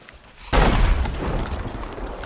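A single sudden deep boom erupts in the game Sea of Thieves, then a rumbling roar fades slowly.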